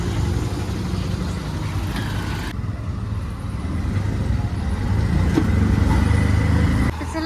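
An auto rickshaw engine runs steadily through the ride, a close, constant low mechanical drone with road noise that swells slightly toward the end.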